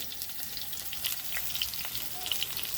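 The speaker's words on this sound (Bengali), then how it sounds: "আর এখন পটল পোস্ত করব, ওই জন্য পটল ভাজা বসিয়েছি।" Pointed gourd pieces frying in oil in a pan, a steady, moderately loud crackling sizzle with scattered pops, heard up close and alone.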